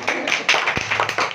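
A few sharp hand claps ring out close by at a street-side golgappa eating challenge, irregular and quick, mixed with nearby chatter and voices.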